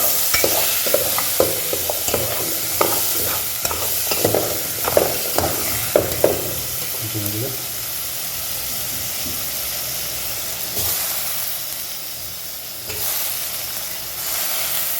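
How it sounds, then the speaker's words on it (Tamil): Mixed vegetables with cabbage sautéing and being stirred in hot oil for a Tamil poriyal, with a close steady sizzle and hiss, and irregular scraping stir strokes through the first half that then settle into continuous frying. "கொஞ்ச நேரம் ஒரு 5 நிமிஷம் இதையும் அதே மாதிரி எண்ணெயில் கொஞ்சம் வதக்கணும்"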